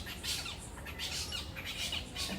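Repeated bird squawks in short bursts, fairly close and steady over a faint background, with no talking.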